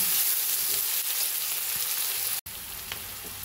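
Two large onions, thinly sliced, fry in hot oil with a dense, steady sizzle. A brief dropout cuts the sound near the end, and a faint scrape of stirring follows.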